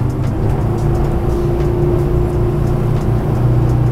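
Axopar 29 XC cross-cabin boat driven by a Mercury V10 400 hp outboard, accelerating at sea: a loud, steady engine drone with strong low hum and broadband rush of hull and water noise, continuous with no talk.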